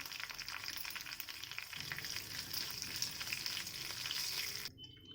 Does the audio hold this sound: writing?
no